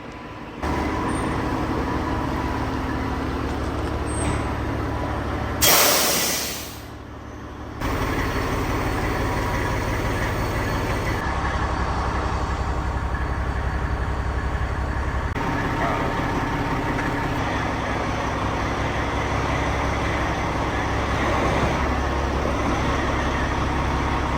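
A farm vehicle pulling in to hook up to a grain trailer: a steady, loud engine drone that runs nearly the whole time, with a brief dip and a short burst of noise early on.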